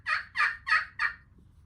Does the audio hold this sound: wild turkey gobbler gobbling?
yes